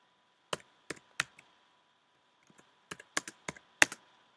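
Computer keyboard typing JavaScript code: a few sharp key clicks, a pause, then a quicker cluster of keystrokes, close and clear against a quiet room.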